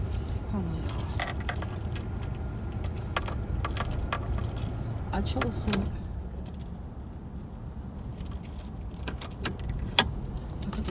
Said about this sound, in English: I put the keys out because I'm about to go upstairs